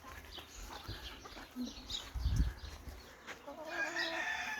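Ataks chickens cluck and murmur softly around a coop, with a few faint bird calls and a brief low thump in the middle.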